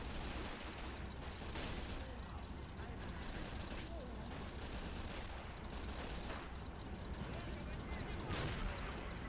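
Artillery gun firing in the video game Men of War Assault Squad 2: a dense, continuous roar of battle with repeated heavy blasts and gunfire. A voice talks over it.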